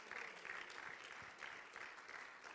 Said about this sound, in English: Someone give the Lord a hand clap of praise.